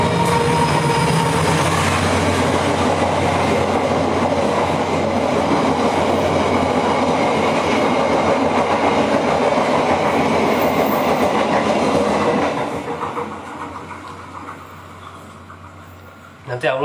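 A train rolls steadily past at close range with rhythmic clickety-clack of wheels on rail joints, loud and continuous for about twelve seconds before fading away, with a voice speaking faintly beneath.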